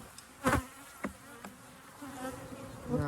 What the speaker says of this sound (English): There's a lot of bees in there.